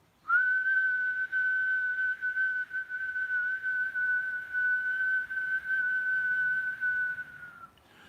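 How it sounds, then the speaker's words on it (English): A long, steady whistled exhale during pranayama breathing in a meditation practice, holding one clear unwavering pitch for about seven seconds before stopping abruptly, with no talking. "And then you exhale whistling."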